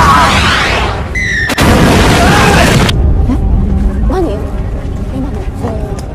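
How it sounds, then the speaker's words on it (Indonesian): A bomb goes off in a shop in a film, giving a burst of loud, crackling explosion noise with booming debris that cuts off sharply, followed by lower rumbling and scattered voices. "bom tersebut meledak di kedai yang tadi mereka kunjungi"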